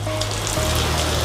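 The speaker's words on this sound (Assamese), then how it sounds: "এতিয়া ইয়াত আমি অলপ চয়া চচ দি দিম" Soy sauce splashes into a frying pan of pork and mustard spinach, a short, steady liquid trickle sizzling against the hot food.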